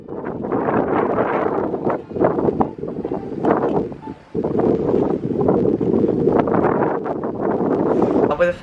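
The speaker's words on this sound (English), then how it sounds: "So at 9 p.m. the high wind started, which was about 30 odd knots." Strong night wind of about 30 knots gusting around a sailing boat at anchor in Montenegro, a loud, steady roar with buffeting surges that drops briefly partway through before returning, with voices talking underneath.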